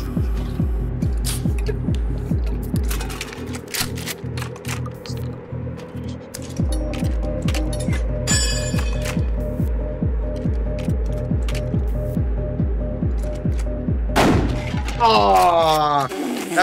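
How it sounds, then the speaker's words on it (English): Gunfire in the horror video game Buckshot Roulette comes as a rapid, steady train of sharp shotgun-style blasts for most of the stretch, followed near the end by a burst of metallic clatter. "Rack the shotgun."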